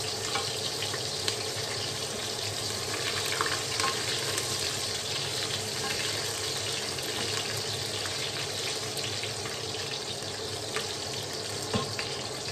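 Chopped onion frying in a hot pan with garlic for beef rendang gives a steady, dense sizzle that holds evenly throughout, with small crackles and occasional stirring scrapes and no voices.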